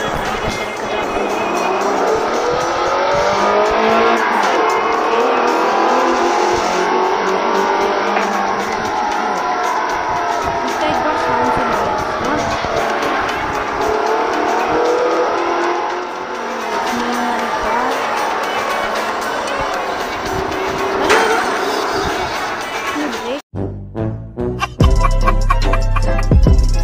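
Street-racing action in the CarX Street video game: a loud, continuous engine roar with rising and falling revs and long tire squeals, ending in a brief burst of game music.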